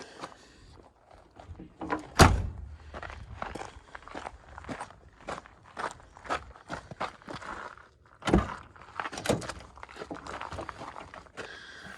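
A 1978 Buick Regal's car door thuds shut around two seconds in and again near eight, with shuffling, rustling handling sounds in between.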